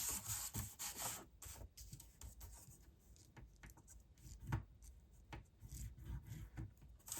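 A paper pocket piece for a 4x6 recipe album is scored with a tool, giving quiet repeated rubbing and scraping strokes with soft taps, close and faint.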